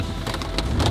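Rain falls on an off-road vehicle towing a trailer along a Georgia overland trail, a brief, steady, close wash of hiss and patter with no voices.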